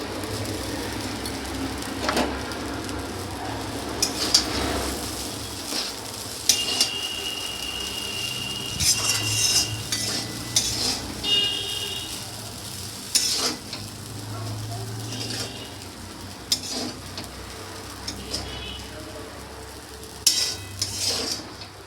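Egg is stir-fried with chow mein in a hot pan, giving a constant sizzle with repeated scraping and metallic clinks from stirring.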